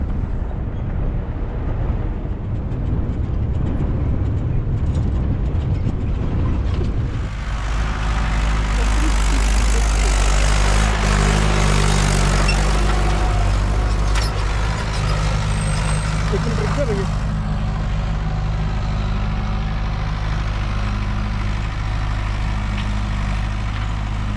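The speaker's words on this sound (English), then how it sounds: "Tractor is doing tilling" A tractor tilling a field in the Jawai Dam leopard conservation area of Rajasthan, its loud, steady low engine drone running close by throughout, with a rougher, heavier stretch of working noise in the middle.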